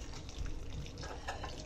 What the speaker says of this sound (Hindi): ये मैं इसमें एक पानी और डाल रही हूँ